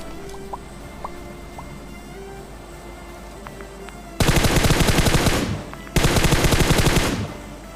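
Two sustained bursts of rapid automatic gunfire crack out in a battle royale video game, loud and close, following a stretch of quiet ambient game sound with faint chirps.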